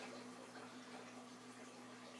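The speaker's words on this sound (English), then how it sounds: "I'll give my glass a quick cold water rinse" Cold tap water runs steadily into a beer glass for a quick rinse, a faint continuous splashing flow with a low hum underneath and no talk.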